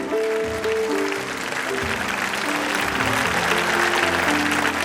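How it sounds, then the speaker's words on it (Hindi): Students clap to welcome alumni at an alumni meet at JNV Laduna, Mandsaur: a broad, even roar of applause holding steady throughout, with tonal sounds and faint voices mixed in. "सभी छात्र एक बार दोनों हाथ उठाकर हमारे सभी साथियों का जोरदार तालियों से स्वागत कीजिए"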